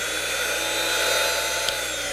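A Drill Doctor sharpener grinding a drill bit, a steady high-pitched whine with a gritty abrasive hiss held throughout, close and fairly loud, ending with a brief sharper scrape near the end.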